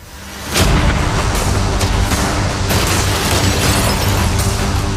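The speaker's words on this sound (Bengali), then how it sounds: "যদিও একটা ক্যানন বল ওর ইয়টে গিয়ে লেগেছে" Cannonballs fire at a yacht in a video game. A sudden loud boom is followed by a dense, sustained barrage of rumbling blasts and pops that continues to the end.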